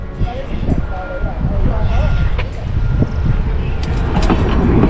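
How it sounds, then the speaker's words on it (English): Rumbling train cars roll along through Skagway, Alaska with rhythmic clatter and metallic squeaks, a steady loud rail noise while a voice talks faintly underneath. "So there's one of the train cars."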